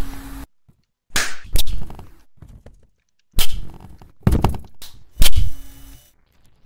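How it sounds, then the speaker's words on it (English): Several sharp, loud slapping smacks land in irregular bursts with brief silences between, like rulers striking repeatedly from many copies of Baldi in Baldi's Basics. "That's the sound of a lot of Baldis"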